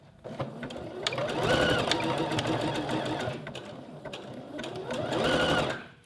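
A sewing machine runs a 3-step zigzag stitch along elastic, the close motor whirring in two long bursts that ramp up, hold and wind down, with a short slower stretch between them.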